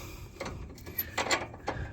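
An ATV jack clicks and ratchets as it is lowered, small mechanical clanks and a metallic squeak coming in uneven bursts at close range, fairly quiet and with no talking.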